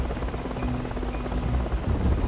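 A cartoon helicopter drones steadily and fairly loud throughout, a continuous rotor buzz with no voices over it.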